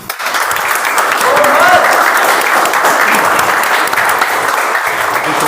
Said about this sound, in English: Most of you clapped, some of you didn't.